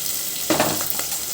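Onions and green chillies sizzle in a hot pan of tempered mustard seeds and urad dal while a vegetable curry is cooked, a steady close frying hiss with a short burst of stirring in the middle.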